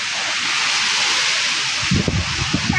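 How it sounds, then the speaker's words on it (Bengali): Strong stormy wind blows during a mango-gathering outing, roaring as a loud, constant rush against the microphone, with a few gusty thumps buffeting in near the end. "প্রচুর বাতাস"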